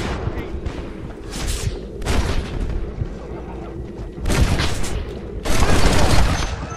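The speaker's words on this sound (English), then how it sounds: "I didn't shoot someone, did I?" Gunfire erupts in the Western video game Red Dead Redemption, loud rolling volleys of shots and booms in several dense bursts, with no speech over them.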